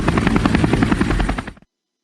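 The Bollycopter sound triggered by the spacebar in the Ballyland children's game: a loud, close helicopter rotor chopping in rapid, even beats for about one and a half seconds before cutting off abruptly.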